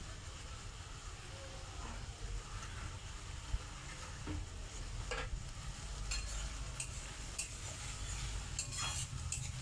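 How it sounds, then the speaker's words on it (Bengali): Onions are stirred as they fry in oil for palak pulao, making a low, steady sizzle with occasional scrapes and clinks of a spoon against the pan, faint and close, with background rumble. "ওই পেঁয়াজটাকে দিয়ে জাস্ট একটু অল্প একটুকু নেড়ে নেব"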